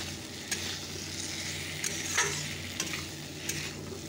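Spices fry in a pan for a fish curry with drumsticks, potato and tomato: an even, quiet sizzle broken by a few light clicks of a spoon scraping the pan.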